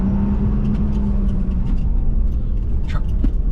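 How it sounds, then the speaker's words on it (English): A truck engine labors hard at a landfill with a loud, steady, rumbling drone that stays close and continuous throughout. "Truck pulling hard."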